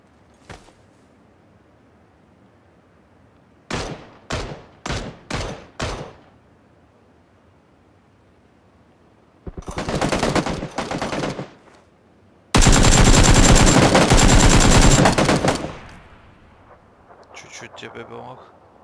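Automatic gunfire in PUBG: a quick string of five sharp bursts, then two long loud sprays of rapid fire, close and harsh, with a faint voice at the end.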